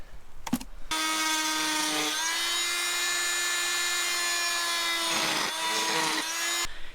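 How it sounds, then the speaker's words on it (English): A power drill whines steadily for several seconds, its pitch dipping briefly twice as it bites into the top of an air vent pipe, then cuts off abruptly. "I'm just going to drill my own holes in the top of it"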